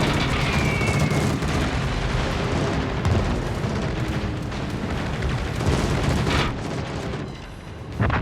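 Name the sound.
warship guns firing, World of Warships video game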